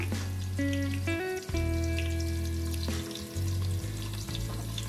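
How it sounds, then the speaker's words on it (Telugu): Onions for a mutton bhuna gosht curry sizzle steadily in hot oil, a constant crackling hiss heard close, partly masked by loud background music. "ఇదండి ఉల్లిపాయలు వేసేస్తున్నాను."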